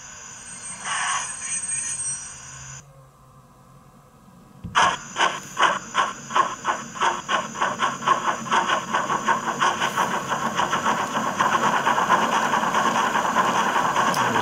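A steady mechanical hum and hiss, a brief quiet, then rhythmic chuffing beats that start slow and quicken into a continuous running sound from a sound-fitted Bachmann V2 class model locomotive.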